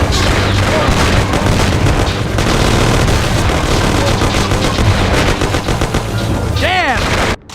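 Sustained heavy gunfire with rapid machine-gun bursts and booming shots fills a firefight in the video game Mafia: The City of Lost Heaven, loud and continuous, with a shouting voice breaking through near the end.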